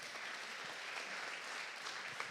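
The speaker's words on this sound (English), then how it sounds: "Give a big applause." An audience at an inspirational presentation event applauding, a steady wash of clapping from many hands filling the room throughout.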